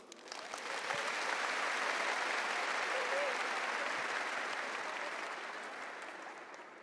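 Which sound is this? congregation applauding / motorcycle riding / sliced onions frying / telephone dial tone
congregation applauding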